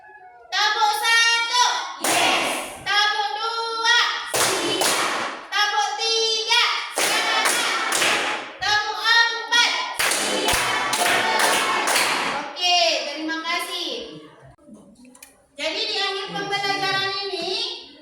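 Rhythmic group clapping cheer in a classroom, with children answering a teacher's call in sharp bursts of claps and shouted responses, loud and close, separated by short pauses and spoken calls.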